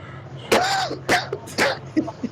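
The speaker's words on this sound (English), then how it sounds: "I got somebody coughing then." Several short, harsh bursts a moment apart, like someone coughing and clearing their throat close by.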